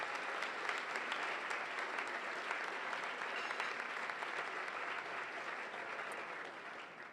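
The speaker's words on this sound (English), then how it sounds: "Please join me in a warm round of applause for all of them." A room full of people clapping together for an honoured group at a civic forum, dense and steady throughout, gradually thinning toward the end.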